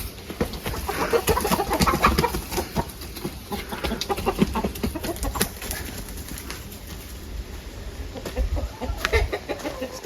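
A hen clucking in a close, busy farmyard scene, with repeated short calls and other birds, likely pigeons or doves, mixed into a steady background bustle.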